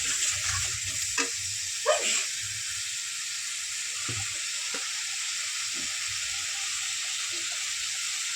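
Ginger and garlic paste, ground together, hits hot oil in a pan and sizzles loudly. A few sharp spatters come at first, then the hiss settles into a steady bright frying that runs throughout.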